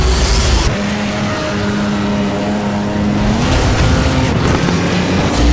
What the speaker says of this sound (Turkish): Şimdi de e, nitroyu basıyor